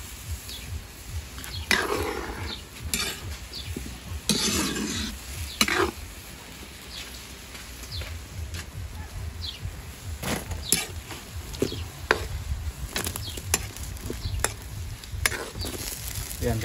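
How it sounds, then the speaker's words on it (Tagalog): Coconut milk simmers in a pot where tuna was sautéed, a steady close bubbling and sizzling hiss with scattered stirring clicks and knocks throughout, no talk. "kumukulo na yung gata mga kabayan"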